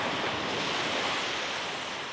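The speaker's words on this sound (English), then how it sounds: "See the ocean in the background. A little bit wavier than it has been." Ocean waves breaking on a beach, recorded from a sand dune on a wavier day: a continuous, fairly loud roar of surf mixed with wind buffeting the microphone, with no voices.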